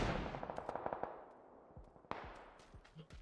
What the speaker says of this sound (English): There's a lot of gunfire going in Hadik.